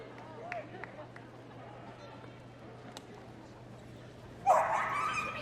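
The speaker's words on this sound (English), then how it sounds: "Nice vocal dog." A five-year-old border collie lets out excited barks late in a large-dog agility jumping run at Crufts 2014, in the International Invitation class, heard over steady arena background noise.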